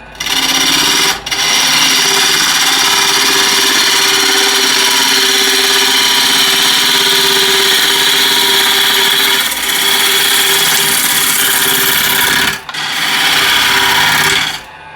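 A wood lathe turning a bowl with a 16 mm ball gouge, a loud steady whirring hum with a bright cutting hiss, broken by two brief dropouts.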